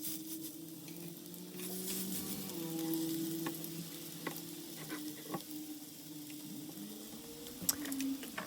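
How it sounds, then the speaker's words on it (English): Couscous and feta fritters sizzle steadily in hot oil, with soft crackling and occasional pops and stirring scrapes under the constant frying hiss. "Then we move on to the frying."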